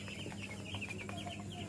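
Broiler chickens in a poultry shed give soft, repeated clucks and short calls at close range over a steady background hum.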